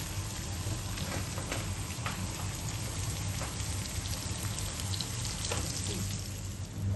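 Kondala karela frying in oil on a tava, a steady close crackling sizzle with scattered small pops running evenly from start to finish, no voices.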